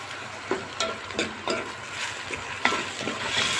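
Chopped liver, onion and spices fry in a pan with a steady sizzle while a spoon stirs and scrapes in repeated short strokes, close and moderately loud, with no speech.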